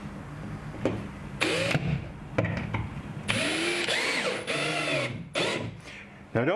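A power drill drives screws into wood behind drywall in several separate whirring bursts, each spinning up and bogging down, with a voice talking between and over them, close and fairly loud.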